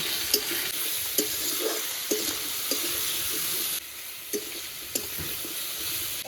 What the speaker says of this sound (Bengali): বেগুন আলুটা ভালো করে কালো জিরের সঙ্গে ভেজে নেব